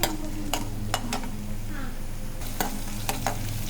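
Crushed garlic fries in hot oil in a home kitchen pan, giving a steady close sizzle with a few sharp crackles and stirring scrapes. No one speaks.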